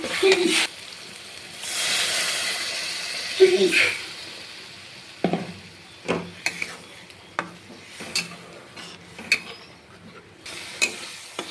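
A little water goes into a well-fried, sizzling onion masala for a spicy boal fish paturi, sending up a hissing burst of spatter, followed by scattered spoon scrapes and clinks against the pot, with a voice briefly heard.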